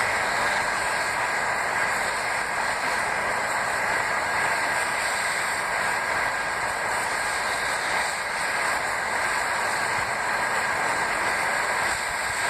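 A gas forge cranked to full power for melting aluminium gives a steady, loud roar with a constant hiss, unbroken and unchanging throughout, with no voices over it.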